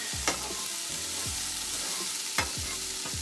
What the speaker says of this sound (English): Now we're just waiting for the cabbage to cook down a bit, create some moisture of its own.